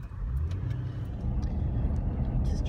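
A car driving along the road into Narooma on the south coast during an evacuation, heard from inside as a continuous low road and engine rumble, fairly loud and without voices.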